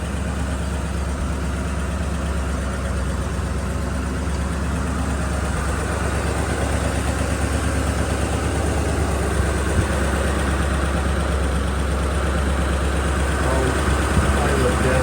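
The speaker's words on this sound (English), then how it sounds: "I'll idle it down just a little bit. It's warmed up." A 1925 Cadillac V63 engine, warmed up but still cold-blooded, idles steadily with a low continuous rumble, loud and close throughout.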